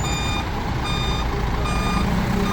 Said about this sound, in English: that bus is going backward